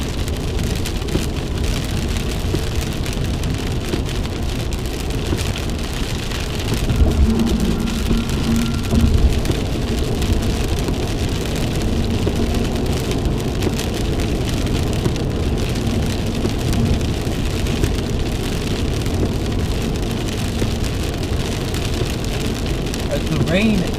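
Heavy rain pounds a truck during a tornado storm in Georgia, a dense, constant roar of drumming drops and road spray lasting throughout, with a few faint low tones in the middle.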